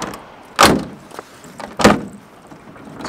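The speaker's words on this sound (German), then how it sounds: "Wir gehen mal zur Fahrertür. Wenn ich die aufmache, fällt sie schon runter." The loose driver's door of a VW T2B camper bus clunks twice, two sharp metallic knocks a little over a second apart, close by with quiet background in between.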